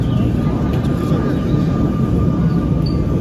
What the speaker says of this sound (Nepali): अर्को ट्रेन आइसक्यो